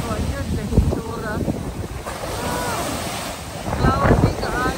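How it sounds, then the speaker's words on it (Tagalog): Sea waves washing ashore at a beach resort, with steady surf and wind buffeting the microphone; bursts of louder wash come and go, and a voice is faintly heard under the water noise. "Ang dagat."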